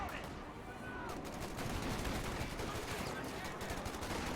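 Browning machine gun fire in the video game Company of Heroes 2, dense rattling bursts within a noisy battle din, with talking over it.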